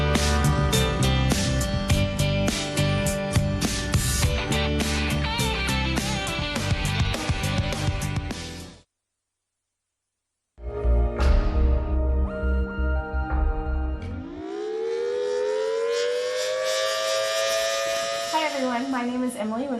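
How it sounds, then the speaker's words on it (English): An outdoor civil defense warning siren in Sedgwick County follows a music intro and a short silence, then winds up in a loud, steadily rising tone that holds near its peak. "Today we're here to learn more about outdoor warning sirens and how they sound and operate."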